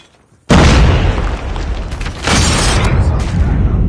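A grenade detonates in Call of Duty Mobile during a Hardpoint match, a sudden loud, close boom followed by a sustained roar of rumbling debris and battle noise.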